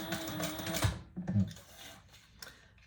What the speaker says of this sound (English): So I'm just doing 2 rows of stitches.